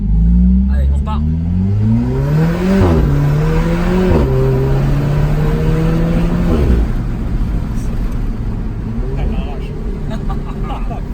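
A sports car accelerates hard on a road trip, its loud engine climbing in pitch through several quick upshifts before settling into a steady cruise, with a voice talking over it.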